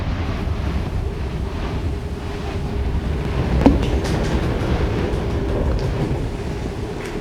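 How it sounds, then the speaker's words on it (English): Ocean waves and wind roar in a steady, loud rush as a sound effect for the Red Sea parting, low rumbling surf with gusty wind buffeting the microphone and a brief thump midway. "Look, the Red Sea is parted."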